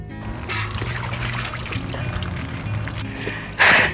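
Water is poured for a bath in a steady trickling stream, with a sharper louder splash near the end, heard close by with no talk.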